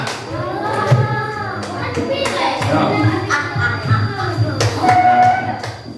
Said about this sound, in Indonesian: berikan tepuk tangan untuk kelompok 2